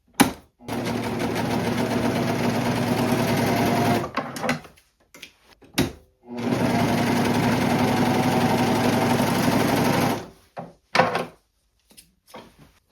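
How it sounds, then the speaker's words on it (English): A serger stitches dark chocolate brown fabric with black thread in two long, fast whirring runs, separated and followed by short clicks and handling noises. "when it comes to using my serger, I typically only use either black or white thread"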